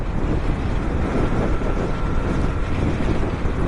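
Steady rushing wind roars over the microphone while riding a Yamaha MT-07 motorcycle on a windy day, a constant loud buffeting with no pauses, like air pressure at riding speed.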